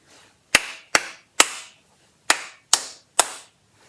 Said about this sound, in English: So I'm just going to clap that again for you.